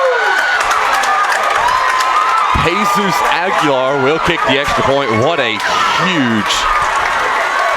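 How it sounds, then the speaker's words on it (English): A loud high school football crowd roars after a 95-yard kickoff return touchdown, sustained cheering and shouting filling the stadium while an announcer talks over it. "That was about as loud of a crowd as I've heard in a long time."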